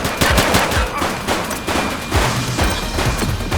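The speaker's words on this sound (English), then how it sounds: "She's shooting!" Loud rapid gunshots from a shooting suspect crack out in quick bursts during a police standoff, close and sharp, with several heavy booming impacts.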